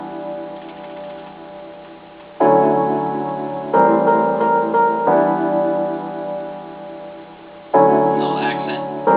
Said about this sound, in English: I've used a piano for the chords